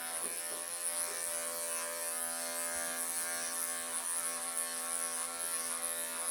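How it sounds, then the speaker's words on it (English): Electric clippers buzz steadily while trimming the curly belly fur of a Persian cat, a continuous close mechanical hum with no pauses and no talking. "Let's get this tummy clipped. All this curly tummy hair"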